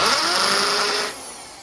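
A power drill set to hammer mode bores into wood while a bird feeder table is built, giving a steady, close motor whine that cuts off after about a second.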